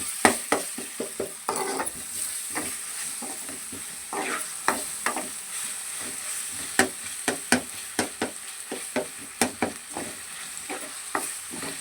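Ginger garlic paste fries in a pan with onions, a soft steady sizzle punctuated by many sharp scraping and tapping strokes of a spoon against the metal, close up and without speech.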